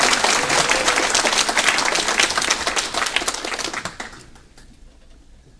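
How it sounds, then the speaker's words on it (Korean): A large lecture audience bursts into loud, dense applause that keeps up strongly for about four seconds, then thins into a few scattered claps and fades out. "왜 박수를 안 칩니까?"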